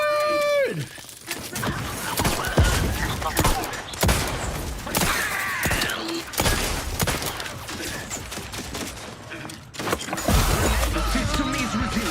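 A firefight in The Outer Worlds 2, with a grenade explosion and bursts of gunfire cracking repeatedly over several seconds alongside thuds and clatter, loud and close, while game characters shout.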